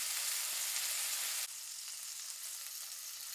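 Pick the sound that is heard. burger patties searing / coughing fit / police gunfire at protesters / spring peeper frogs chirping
burger patties searing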